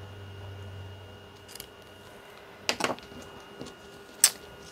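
Scissors cutting card stock for a die-cut shaker card, a few short crisp snips spaced apart, close and quiet, with a faint low hum early on.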